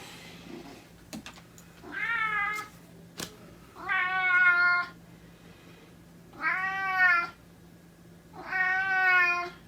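A house cat meows four times in separate, evenly spaced calls, each clear and fairly close, with a few sharp clicks in the quiet between them.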